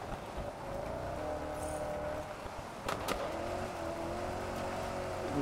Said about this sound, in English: this Range Rover with the off-road tyres and the off-road suspension is pretty brilliant to drive off-road